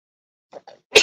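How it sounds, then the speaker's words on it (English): Two short breathy intakes followed by a sharp, loud sneeze burst, close to the microphone, with silence before. "Hold on, I got to sneeze."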